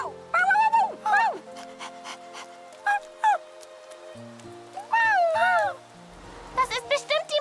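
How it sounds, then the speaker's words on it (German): A cartoon puppy pants and whimpers in the rain, giving short breathy panting bursts and high whines between animated voices speaking over a soft background. "Was ist mit diesem Welpen?"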